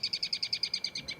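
Bird song played back from the Merlin bird identification app: a rapid, even series of about eleven high, bright chirps repeated in steady rhythm, clear and fairly close, with no voices.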